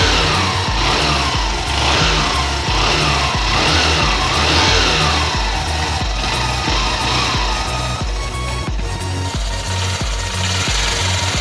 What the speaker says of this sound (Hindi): तो मैं यहाँ पे इंजन स्टार्ट करता हूँ।